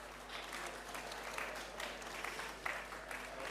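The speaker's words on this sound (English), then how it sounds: "And let's give Ivan and the team a round of applause." Audience applause after a tech-industry talk on AI and productivity, a steady, moderately distant wash of clapping that holds evenly with a few sharper claps near the end.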